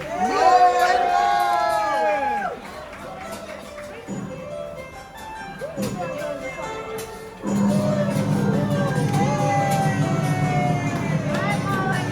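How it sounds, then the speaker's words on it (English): Cheering and applause from an audience at a show aboard the Carnival Mardi Gras cruise ship, with loud whoops and shouting, a dip midway, then a sustained roar of clapping and cheers to the end. "A round of applause for Mo and Lo"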